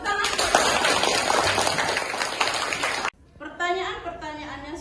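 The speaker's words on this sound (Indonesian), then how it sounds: "Ya, kasih tepuk tangan." Classroom students clapping in a dense, fairly loud burst lasting about three seconds, cut off abruptly and followed by a teacher talking.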